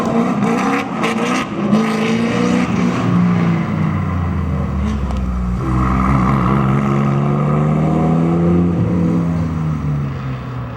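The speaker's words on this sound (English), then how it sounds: "It's twilight, wet, and we're sure to see some fishtailing cars." Rally cars race through a wet twilight stage of Targa Newfoundland, engines revving loudly and shifting pitch as they slide through tight corners, with a continuous close roar throughout.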